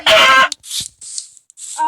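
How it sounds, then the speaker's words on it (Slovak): Short bursts of a video game chicken clucking, a few quick squawky calls separated by brief gaps, close and clear over a quiet background. "Sliepka utíka."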